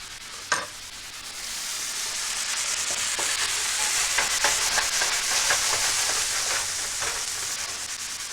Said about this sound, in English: take a little bit of butter, maybe a tablespoon or 2, and drop that right on in